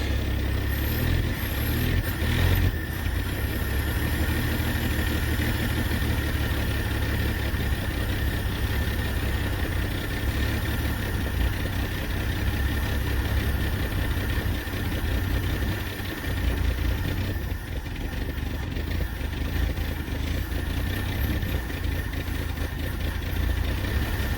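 A 1949 Chevy engine idles after a cold start, a steady, close mechanical rumble that holds evenly throughout with no voices over it.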